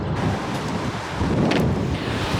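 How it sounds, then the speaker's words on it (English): Strong, steady wind roars beside a canal near an old lock-keeper's cottage, a broad continuous rush with gusty swells and buffeting on the microphone throughout, no voices. "but the wind isn't stopping anytime soon"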